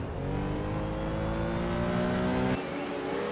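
Formula One race cars at the 1955 Argentine Grand Prix roar in a loud, steady engine drone with rising pitch, cutting off abruptly near the end as the sound drops away.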